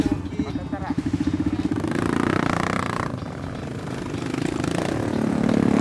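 A trail motorcycle engine drones and putters while it is ridden over rough terrain. The rumble rises and falls and runs continuously, with voices mixed in.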